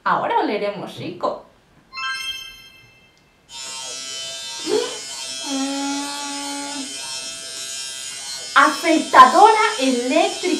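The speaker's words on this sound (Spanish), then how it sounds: "Afeitadora eléctrica." An electric shaver for trimming a beard hums with a steady, even buzz for several seconds, with a voice talking briefly before and after.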